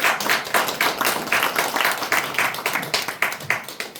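An audience at a community-finance policy forum applauds after a congratulatory speech. The clapping is steady and fairly loud, with a brisk, even rhythm throughout.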